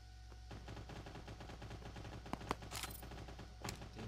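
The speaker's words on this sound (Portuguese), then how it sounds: "Tem alguém atirando nele." Automatic gunfire from the video game Cyber Hunter rattles in rapid bursts throughout, with a few sharper, louder shots standing out over a steady busy game soundscape.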